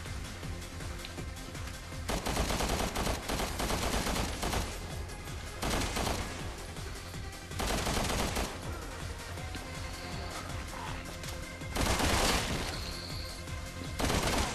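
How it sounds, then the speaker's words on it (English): Bursts of fully automatic gunfire in Resident Evil 6 Mercenaries mode, sounding in several sustained rapid volleys separated by short pauses over a steady game background, with no talking. "I'll switch to the fully automatic one because I don't like it when Pierce's gun is single fired."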